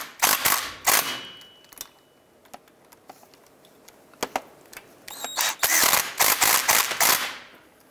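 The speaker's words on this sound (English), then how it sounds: "I'm going to go ahead and just finish tightening these down." Drive shaft flange bolts being tightened on a 2002-2007 Jeep Liberty, quick bursts of ratcheting clicks in close succession, then a pause with scattered metallic taps before more rapid ratchet runs.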